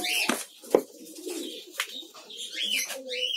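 Lovebirds call from a nest box in their village colony: scattered short, sharp chirps and squeaky rising notes at moderate distance over a quiet background, with gaps between bursts.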